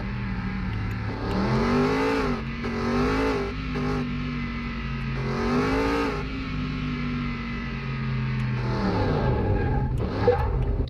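A car in Car Mechanic Simulator 2021 accelerates hard on a test run, its engine revving up through several rising gear pulls and dropping between shifts, steady and fairly close with no talk.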